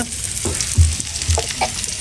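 Onions and potatoes fry loudly in a pan nearby, giving a constant bright sizzle with a few heavier bubbling pops and stirring scrapes, with no voices.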